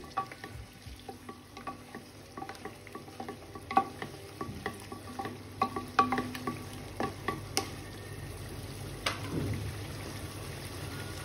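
Beef is mixed with sour yogurt for beef tehari, giving soft, wet stirring and scraping clicks that grow busier midway, close by, over a faint sizzling background with no talk.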